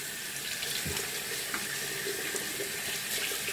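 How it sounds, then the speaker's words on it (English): Warm water runs steadily from a tap into a sink while a washcloth is wetted, a close, constant hiss and splash with no talk. "you can hear the water running"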